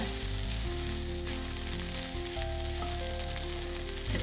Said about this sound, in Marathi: खोबरं आपला भाजत आलाय